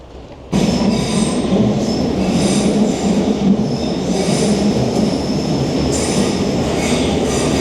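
A London Underground train at Tower Hill Station roars in loud and close, with squealing wheels and rattling carriages making a steady, sustained din.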